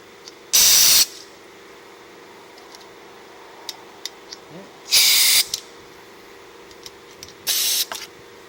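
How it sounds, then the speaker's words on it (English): Carburetor cleaner sprayed onto a Honda HRX217 lawnmower carburetor in three short hissing bursts, close and loud, separated by quiet gaps with faint clicks and handling noises. "Just going to do with CARB cleaner. Make sure these holes are good."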